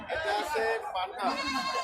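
A male goat bleats close by at a livestock market in long, wavering cries, with a brief pause between calls.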